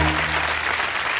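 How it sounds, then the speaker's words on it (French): A studio audience at a Christmas variety show breaks into steady, dense applause, a brief continuous wash of clapping. "et on applaudit."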